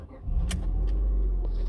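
Ford Fusion 1.4 Style Climate Auto with 79,463 miles starting up, a brief crank then a steady low engine rumble settling into idle, close and fairly loud with no talk.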